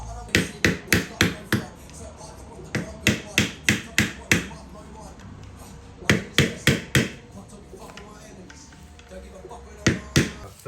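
Metal hammer blows on a big screwdriver driving out worn differential bushings on a VE SS, struck in quick bursts of four to six sharp impacts separated by pauses, loud and close in a workshop.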